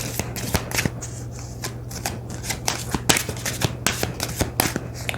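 Oracle cards being shuffled by hand, close and crisp, with a quick irregular run of riffling slaps and flicks repeating throughout, over a faint steady hum.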